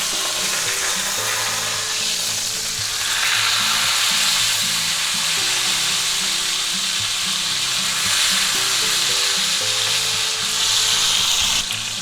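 Sous vide chuck roast searing loudly in a hot pan, a dense continuous sizzle with a low rattling scrape running underneath and swelling a little partway through.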